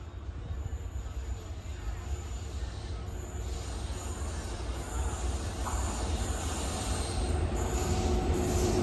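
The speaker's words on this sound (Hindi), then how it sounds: "इससे आगे से आ रही है वो ट्रेन जो मैं पहले पकड़ने वाला था" The Gandhidham Nagercoil Express rolls past close by, its wheels grinding and squealing on the rails in a steady roar that slowly grows louder.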